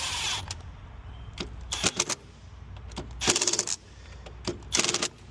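A screwdriver tightens a breaker terminal screw onto conductors, giving several short bursts of close metallic scraping and clicking separated by quiet pauses.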